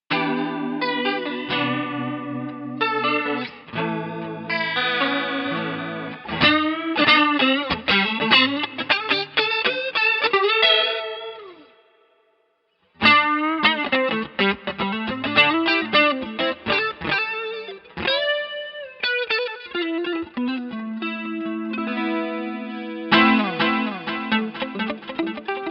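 An electric guitar through a stereo chorus pedal, either a Boss CE-2 or an Ibanez SC10, plays a busy melodic passage with shimmering, warbling tone, loud and alone, pausing briefly midway before continuing.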